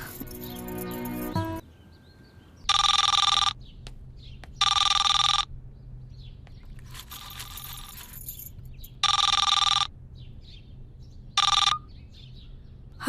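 A telephone rings in bright, evenly spaced bursts, four or five rings with quiet pauses between them, after a brief stretch of other sound at the start.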